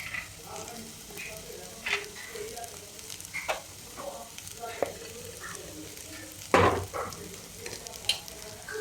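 Radish leaf curry sizzles in a pan as ground paste is stirred in, with scraping stirs and soft crackling frying close by and one louder clatter partway through.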